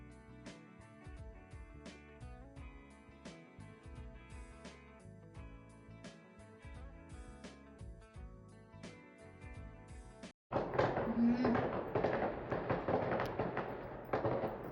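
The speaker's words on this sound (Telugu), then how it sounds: "మేము క్రాకర్స్ కాల్చలేము కాబట్టి ఇలా కాలుస్తున్న వాటిని చూస్తున్నాం." Diwali firecrackers going off outside: a loud dense burst of crackling bangs starts abruptly about two-thirds through, after a stretch of steady music with sharp beats.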